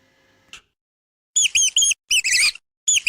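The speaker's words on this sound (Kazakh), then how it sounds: "тышқан" A mouse gives a quick series of high, sharp squeaks in short bursts, close and distinct, after a faint click and a moment of silence.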